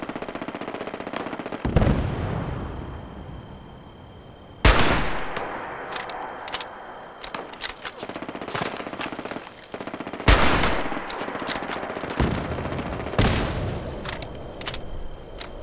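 Video-game mutants fire on each other in Fallout 76: loud bursts of gunfire and single shots, some rapid strings like a machine gun, come in irregular clusters with short gaps.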